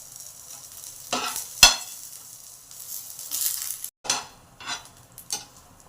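Chutney ingredients with tamarind frying in a pan, with a few sharp stirring scrapes and clinks over a soft, uneven sizzle.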